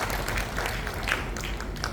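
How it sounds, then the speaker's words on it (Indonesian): An audience at a women's Christmas church gathering claps together, a dense, moderately loud patter of many hands sustained throughout. "yang nggak dapat buku tepuk tangannya fals"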